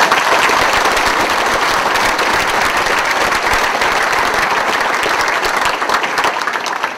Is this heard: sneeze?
no